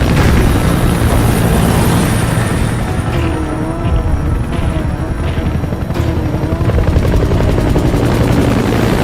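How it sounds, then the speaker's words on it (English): A support helicopter in the Metal Gear Solid V video game flies close by, its loud, steady rotor roar and turbine whine continuous throughout with no voices. "Support helicopter requested."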